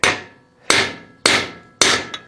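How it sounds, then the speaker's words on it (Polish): Heavy hammer peening the edge of a damaged hundred-year-old scythe blade: four sharp metallic strikes at a slow, even rhythm, each ringing and fading, close and loud with no voices. "Ciężkim młotkiem przesuwamy."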